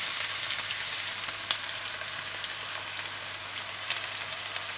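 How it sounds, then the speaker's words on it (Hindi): Whole red chilies and chopped onions frying in hot oil give a quiet, steady hiss of fine sizzling crackle with scattered small pops, heard alone without voices. "इसमें आप साबुत लाल मिर्ची डाल दें और साथ ही आप इसमें कटे हुए प्याज डाल दें।"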